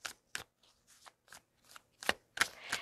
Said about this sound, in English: I'm going to move my hair if you hear the rustling